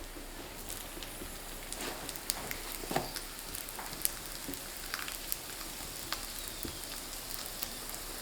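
Chive pancake frying in a pan, a soft continuous sizzle with scattered faint pops and crackles, steady and close.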